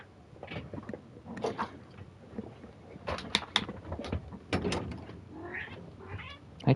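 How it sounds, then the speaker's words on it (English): A house cat meows indoors, wanting to be let in, with several irregular, moderately loud cries spread across the stretch and no talking. "I hear my cat."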